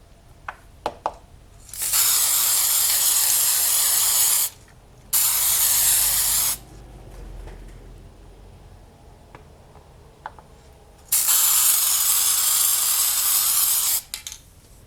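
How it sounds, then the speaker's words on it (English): Loud hissing bursts from an aerosol spray can coating a polymer clay bowl, three long sprays of a few seconds each separated by short pauses, with faint clicks in between. "I'm going to spray the front, then I'll tip it upside down, and I'll spray the back as well"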